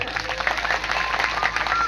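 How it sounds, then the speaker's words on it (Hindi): A village gathering at a religious recitation event claps briefly, a short patter of many hands at moderate distance, steady across the moment. "सही हो तो ताली बजाओ ना"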